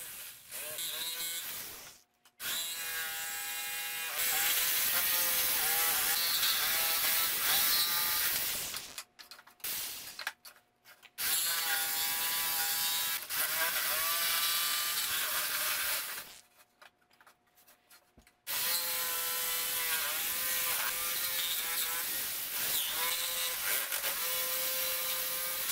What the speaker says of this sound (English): I then use my jigsaw to cut these large circles out.